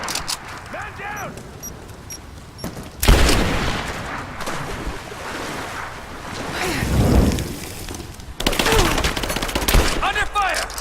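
Gunfire in the Tomb Raider video game: a dense stretch of rapid shots and bursts rises and falls amid battle noise and a surf-like roar, with shouted voices heard at the start and end.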